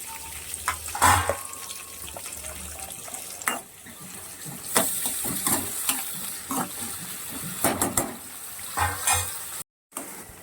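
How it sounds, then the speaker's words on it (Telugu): Onion, green chilli and curry leaves frying in hot oil for mutton keema curry: a hissing, crackling sizzle with stirring scrapes and clatters, close, briefly cut to silence near the end. "ఇదిగో నేనైతే ఉల్లిపాయ, పచ్చిమిరపకాయ, కరివేపాకు అయితే వేసాను"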